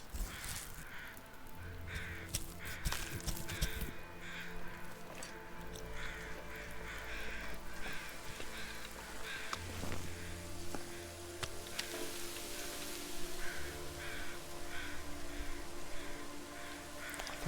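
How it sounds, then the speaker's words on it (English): Many crows cawing in a harsh, repeated chorus scattered across the whole stretch, mid-distance, inside a survival video game set in frozen wilderness, over a steady wind-like background hiss, with no talking. "I thought I heard a lot of crows."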